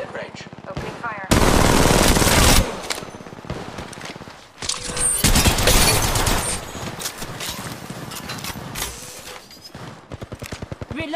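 Gunfire in Apex Legends Mobile comes as loud sustained automatic bursts, two long ones separated by quieter stretches, with scattered single shots and a voice speaking between them.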